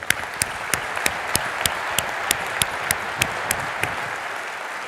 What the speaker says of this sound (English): please join me in applauding and thanking the LeadingAge staff for this amazing